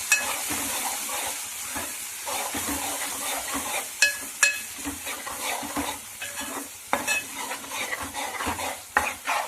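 Chili powder is stirred into a sizzling fish curry in a pan, with steady frying hiss and repeated metal spoon scrapes and clinks against the pan, close and without talk.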